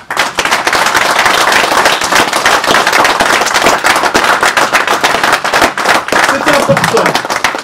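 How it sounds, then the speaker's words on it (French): Loud, dense crowd applause fills the whole stretch at a political opposition rally in Brussels, with sharp crackling claps and a voice rising near the end. "Une salve d'applaudissements pour ce front."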